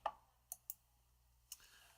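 Several sharp mouse clicks while confirming OK in Photoshop 2020: a faint tap, two close clicks, then one more after a pause, alone over a quiet room hum.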